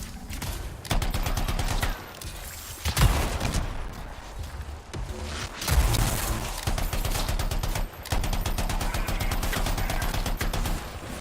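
Sustained automatic assault rifle fire in the sci-fi shooter Anthem rattles in long rapid bursts with brief pauses and a few heavier impacts, loud and close, with no talking.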